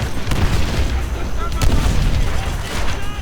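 Explosions and gunfire in Call of Duty: World at War, dense booming blasts and rattling shots throughout, loud and continuous, with a player talking over the battle.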